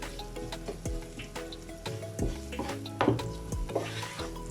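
Onions frying in a non-stick pan for a chickpea curry, with a steady sizzle under repeated scraping and stirring strokes of a utensil against the pan, close and moderately loud, with no talking.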